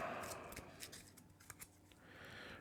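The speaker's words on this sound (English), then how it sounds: "All right, shuffle my deck up here." A deck of game cards shuffled close up, a soft riffling with several brief crisp snaps over low background hiss during a tabletop card game session.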